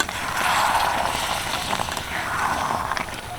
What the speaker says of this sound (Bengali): ভিনেগারটা দিয়ে ভালো করে নাড়িয়ে নিচ্ছি